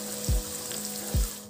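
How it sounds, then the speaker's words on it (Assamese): Onion, ginger, garlic and green chilli frying in hot oil for a mushroom dish, a close, steady sizzle broken by two soft low thumps. "এনেই অলপ ভাজি লওঁ পিঁয়াজখিনি"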